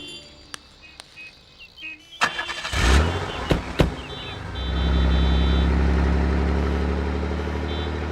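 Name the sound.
car engine starting and driving off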